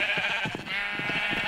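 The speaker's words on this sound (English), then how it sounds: "There's all different colors of sheep over here. Thousands of them. Hey boy, they're loud." Sheep on a Minecraft sheep farm in the video game, a loud, dense chorus of overlapping bleats with many animals calling close together and no talking.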